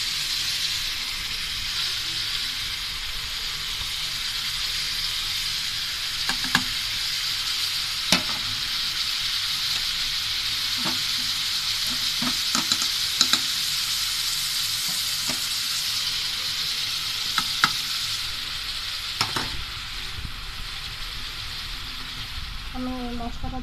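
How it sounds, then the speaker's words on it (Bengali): Beef cooks with cumin, cardamom and cinnamon powders in a pan, giving a continuous loud sizzle and frying hiss, with occasional clinks and scrapes from stirring. "মাংসটা আমি এখন নেড়ে চেড়ে নিব।"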